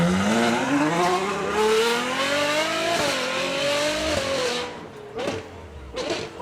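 A V12 supercar howls as it accelerates away at a Beaulieu supercar weekend, one long loud rising engine note that dips and climbs again before braking, followed by a couple of short sharp bursts near the end.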